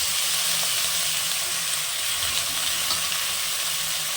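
Chopped mixed vegetables with turmeric fry in hot oil, giving a loud, continuous close-up sizzle and hiss with a few faint stirring scrapes.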